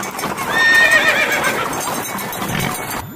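A horse whinnies loudly and clearly, with the rapid clip-clop of hooves running underneath it. The sound stays strong and steady for about three seconds, and no one speaks.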